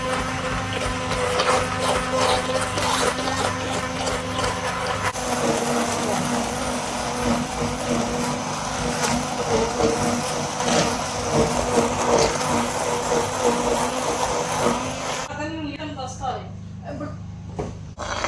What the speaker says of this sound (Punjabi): ਮੈਂ ਮੈਂ ਗ੍ਰਾਈਂਡਰ ਕਰਨ ਲੱਗੀ